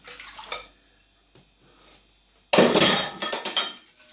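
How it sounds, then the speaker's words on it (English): Whipping cream for a cheesecake is poured into a bowl in a kitchen, a bright splashing, clinking pour that starts loud, breaks off, then returns with a strong gushing burst, with no talking. "So we're going to pour it into a bowl"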